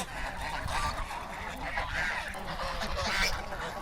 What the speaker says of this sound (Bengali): সব রাজহাঁস